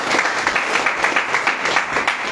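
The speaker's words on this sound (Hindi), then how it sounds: "एक बार दोनों जन के लिए ताली होनी चाहिए।" Audience applause at an IMC business products training program, a steady patter of many hands clapping throughout, fairly loud and continuous with no talking.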